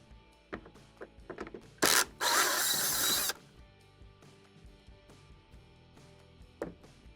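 Console screws come out of a Fisher & Paykel clothes dryer: scattered small clicks and scrapes of tool handling around a short, loud whirring burst of a driver spinning, then quieter taps; no talking.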